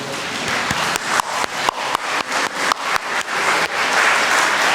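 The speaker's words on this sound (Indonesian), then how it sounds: "kita berikan aplaus kepada mereka" Church congregation applauding the fathers, a loud, dense wash of clapping from many hands in a large room, with a few sharper individual claps standing out, continuous without talk.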